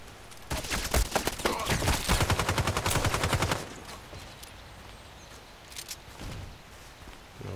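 Rapid gunfire in a shooting video game, a dense automatic burst for about three seconds followed by quieter scattered shots over a low background.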